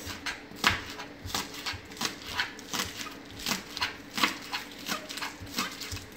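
Scallion sliced quickly on a cutting board for a Jamaican-style curry pineapple shrimp, a steady run of close, sharp knife taps in an even rhythm with no talking.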